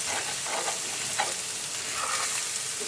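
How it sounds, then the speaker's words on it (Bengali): An egg fries in a pan with onion and cabbage, producing a dense, continuous close-up sizzle with a few faint scrapes and no talking. "ফোড়ন দেওয়া হয়ে গেছে, আর এই যে ডিম দিলাম।"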